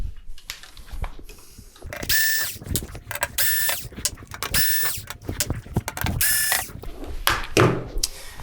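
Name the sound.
unscrewing screws from Hisense TV back panel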